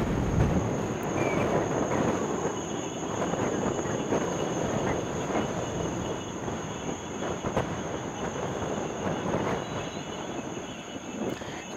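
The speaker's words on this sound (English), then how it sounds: "Got the Iowa Northern southbound with a rail train here, just south of LaPorte City, Iowa." An Iowa Northern southbound rail train carrying welded rail rumbles past south of LaPorte City, Iowa, a loud continuous roll with faint wheel squeal and a steady high tone, on a windy day, without talk.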